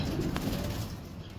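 Ghamaggar pigeons cooing softly, low and faint, a short murmuring coo over a steady background hum with no talking.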